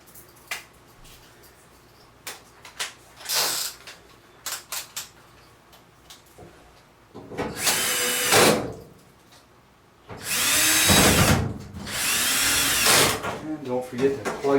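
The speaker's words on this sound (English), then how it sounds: "go ahead and put in the 4 screws in the front here" A power drill drives four screws into the front panel of a Samsung dryer, with several loud whirring bursts of varying length at close range amid clicks and handling noise.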